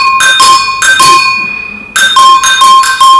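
A doorbell rings loudly in two bright chiming bursts, the first pair fading out before a second repeated ring, with no voices.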